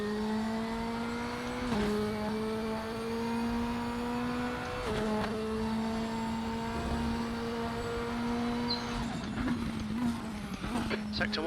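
A Radical race car at Daytona Road Course in RaceRoom drones at a steady engine pitch, dipping sharply under braking twice and climbing again on acceleration, with a voice talking over it.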